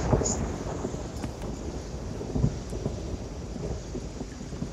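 Thunderstorm at sea in the pirate game Sea of Thieves: continuous heavy rain hiss with a low rumble of thunder swelling briefly near the middle, steady and enveloping with no voices.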